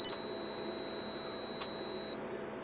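A sustained continuity beep from a multimeter, its probes touched across a circuit board during a Pixel FX RetroGEM install in a 3DO FZ-10 console, holding steady for about two seconds and then cutting off abruptly, with no talking.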